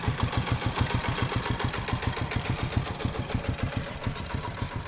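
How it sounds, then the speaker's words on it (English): A Zimco motorcycle idles up close in a Pakistani village, its engine making a steady, rapid chug of pulsing beats with no talking. "Zimco company motorcycle, and there's the reg at the back."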